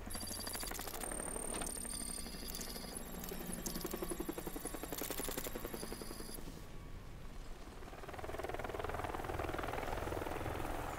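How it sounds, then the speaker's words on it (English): Helicopter in the video game Batman Arkham Knight, a steady loud rotor drone and whine mixed with game effects and possible gunfire bursts, continuous throughout with no talk. "Get to the chopper."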